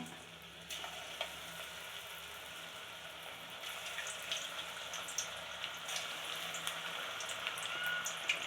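Mushrooms frying in hot oil over a medium flame, a steady crackling sizzle with scattered pops that thickens gradually, heard up close with no talking.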